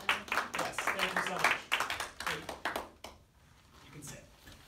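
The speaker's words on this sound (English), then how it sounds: "Big round of applause for the bravery" A studio audience claps in a round of applause for a brave volunteer at a singing workshop, with a dense burst of close hand claps for about three seconds that then thins out and fades.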